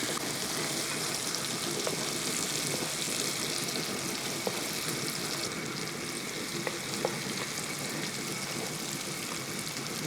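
Shrimp frying in hot oil crackle and sizzle steadily at close range, a dense, continuous bubbling hiss with a few small pops and no voices.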